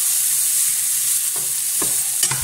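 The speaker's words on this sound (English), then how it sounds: "Listen to the sizzling of my cooking." Steady, loud sizzling of food frying in a pan, with a few soft clinks of a utensil stirring near the end.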